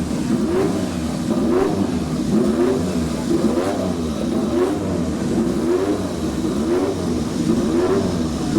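A big Suzuki racing motorcycle at the 2011 Manx Grand Prix Senior race drones loudly and continuously, its engine pitch rising and falling in a repeated rhythmic cycle as it revs.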